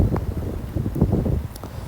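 Blustery wind buffets the microphone on a racing sailing dinghy in uneven gusts, a loud rushing roar with rumbling low end that swells and eases throughout.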